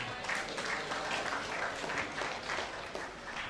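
A large audience at a university convocation ceremony applauds steadily after a welcome address, a dense wash of clapping that holds at an even level throughout with no talk over it.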